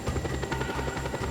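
A helicopter in the video game Just Cause 2 whirs with steady, rhythmic rotor thumps, moderately loud and alone, with no talking.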